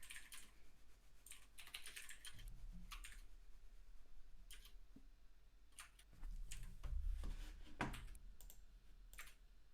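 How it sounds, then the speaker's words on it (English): Typing on a computer keyboard during a programming tutoring session, irregular bursts of close key clicks with short pauses and faint low hum beneath. "oh, you're typing"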